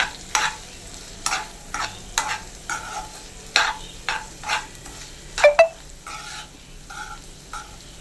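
Salted potato fry masala mixed in a pan, with a series of spaced scraping stirs and a soft sizzle underneath, close by and with no voices.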